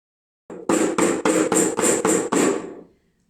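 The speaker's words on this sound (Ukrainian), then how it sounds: "Малята це веселий барабан." A drum played at a children's music session, six hard evenly spaced beats in a quick steady rhythm, loud and close, ending with a short fading ring.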